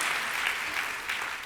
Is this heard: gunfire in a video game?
no